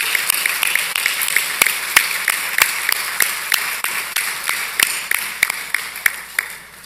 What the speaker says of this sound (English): will you please join me in giving a round of applause to Dr. von Eschenbach